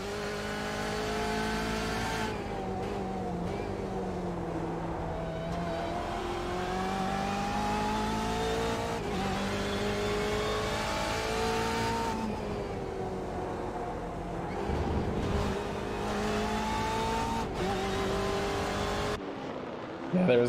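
On-board engine of a race car lapping Laguna Seca in the iRacing simulator, a loud continuous high-revving drone rising and falling through gear changes and corners, with brief shifts in pitch, heard without commentary.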